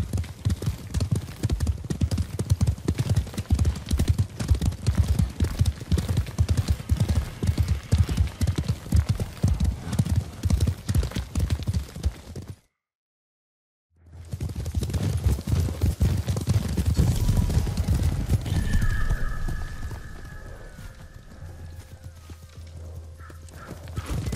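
Horses galloping in the video game Ghost of Tsushima, a loud, steady drumming of hooves with occasional neighs, cut by a brief silence midway before the galloping resumes under faint game ambience.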